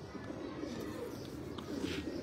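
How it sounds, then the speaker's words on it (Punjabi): Breeder pigeons coo softly in low, continuous murmurs, quiet and somewhat distant, with faint background noise and no clear speech. "ਨਯਾਬ ਕਬੂਤਰ ਨੇ"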